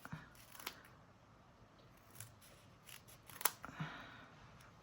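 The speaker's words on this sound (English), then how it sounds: "So I'm just going to cut" Scissors cutting paper for a stamped watercolour butterfly card craft: a few quiet, close snips and crisp clicks scattered over a few seconds, with light rustling between them.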